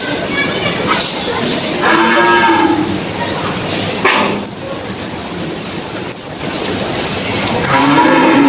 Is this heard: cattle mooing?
yes